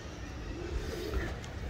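Pigeon cooing, soft low repeated coos close by over a steady background hum, in a pigeon-keeping setting.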